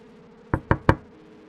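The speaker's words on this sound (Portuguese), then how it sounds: "3 batidas lentas na porta da frente." Three slow, evenly spaced knocks land on a front door in the small hours, each a sharp thud with a short decay, followed by stillness.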